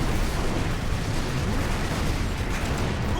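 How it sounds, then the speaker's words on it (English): Dense, continuous battlefield din of gunfire and explosions in a Warhammer 40k Space Marine battle, a loud rumbling wash of blasts and shots with no clear pauses. "Incoming fire."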